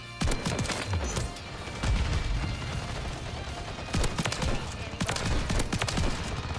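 Shotgun fire in the video game Call of Duty: MW3 comes as rapid, dense bursts of loud gunshots across the battle, with overlapping blasts, and a voice talks faintly underneath.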